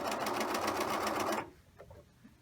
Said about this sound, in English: Needle down, pivot, stitch across the bottom.